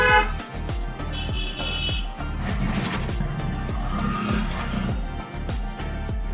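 A car horn gives one short toot while the car climbs a hairpin bend, standing out over the steady drone of the running engine and road noise inside the cabin.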